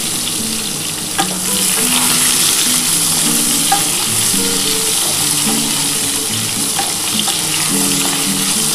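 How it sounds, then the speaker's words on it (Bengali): Papaya and potato pieces frying and being stirred in a pan for a Bengali shukto, a steady sizzle with scraping utensil strokes close by, no voices. "আগে প্রথমে একটুখানি পেঁপে আর আলুটা ভেজে নিচ্ছি।"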